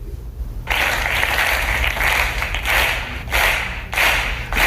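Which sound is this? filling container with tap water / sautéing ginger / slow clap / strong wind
slow clap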